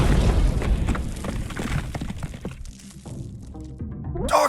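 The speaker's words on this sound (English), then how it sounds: "An explosion." Heavy booming blast in the video game UnMetal, loud and dense with low rumble and crackling debris, fading to a quieter tail before a sharp closing burst.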